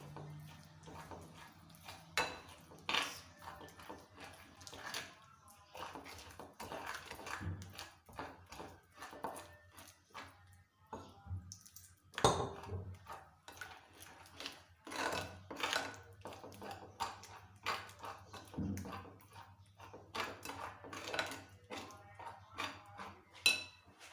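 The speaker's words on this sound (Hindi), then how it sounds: "अब जैसे ये अच्छे से बैटर मिक्स हो गया" Fish batter made with rice flour is mixed in a bowl, giving scattered clinks and scraping taps of a utensil against the dish that come in irregular bursts over a quiet kitchen background.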